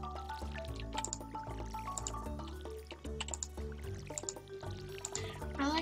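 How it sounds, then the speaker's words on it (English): Watering can sprinkling crops in the farming game Stardew Valley, soft repeated drips and pouring splashes over faint background music. "Now I gotta water every single one of them."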